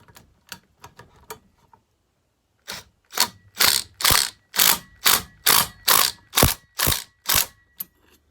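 Ratchet wrench clicking while tightening a part during reassembly of a Homelite XL12 chainsaw: a few faint light clicks, a pause, then about eleven loud, evenly spaced ratcheting strokes close to the mic, with no talk.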